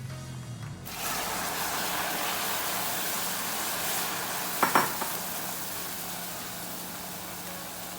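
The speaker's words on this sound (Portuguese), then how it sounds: "E agora eu vou adicionar a água quente, sempre mexendo." Hot water is poured into a melting mixture and stirred in a pot, a soft continuous sizzling wash with a brief cluster of scraping clinks midway.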